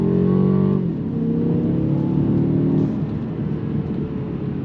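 A 2023 Mercedes-Benz CLA 250 4MATIC coupe with a 2-liter inline-4 drives with a steady engine drone, and its pitch drops as it shifts at about one second, then holds even and loud with no talk.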